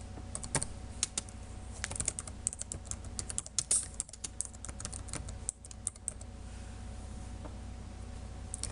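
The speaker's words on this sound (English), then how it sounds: "So now we're just going to type in here," Steady typing of C++ code on a computer keyboard, a continuous run of close, crisp key clicks with occasional louder strokes and no talking.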